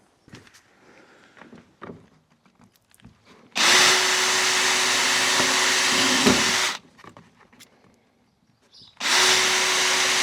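A power drill bores into PVC being shaped into a knife sheath, giving two loud sustained bursts of whining motor and cutting noise, the first about three seconds long and the second starting near the end, separated by quiet handling clatter.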